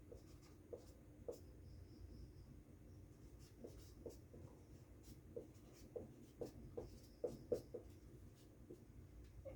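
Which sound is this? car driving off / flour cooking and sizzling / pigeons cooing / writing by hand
writing by hand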